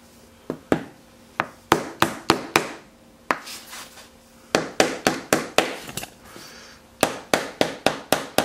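Small wooden dowels being tapped into holes in a pencil sharpener mount, sharp close hammer taps in quick clusters of several strikes with short pauses between groups.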